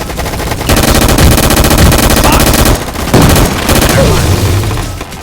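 Rapid automatic gunfire and heavy shots from the video game Gun Fight Arena, loud and dense bursts filling most of the clip with brief pauses between volleys, with a player's voice faintly mixed in.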